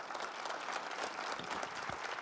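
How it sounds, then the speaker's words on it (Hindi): An audience at a public-issues debate in Pitampura, Delhi, applauds to welcome a guest on stage, a dense, even burst of clapping heard alone without talk. "जरा जोरदार तालियों से स्वागत करें।"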